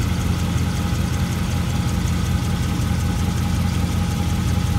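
A brand-new 2017 Mopar crate engine for a Dodge Ram, running in a repair shop, idles with a steady low rumble and a faint metallic ticking, close and constant with no talk.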